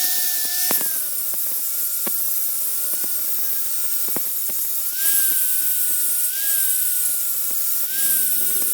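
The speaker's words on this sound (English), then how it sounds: "I'm using the angle grinder to try to smooth out some of the previously attempted repairs." An angle grinder smooths old weld repairs on an American scale vise, a loud, steady high-pitched whine running throughout with its pitch dipping and rising as the disc bites into the metal, close up and with no talking.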